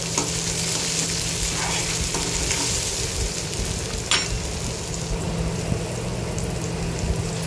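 Onion and tomato for chicken rassa fry in a clay pot, making a steady, close sizzle with light stirring scrapes and a single sharp clink partway through. No one speaks.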